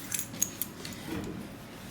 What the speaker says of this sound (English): That noise is the keys.